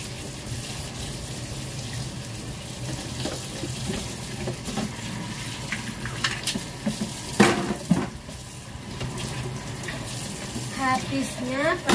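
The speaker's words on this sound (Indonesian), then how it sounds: "Saya mau menyiram kemangi." Water runs from a tap in a home to water a basil plant, a continuous splashing stream with a few clinks and bumps, while someone speaks over it.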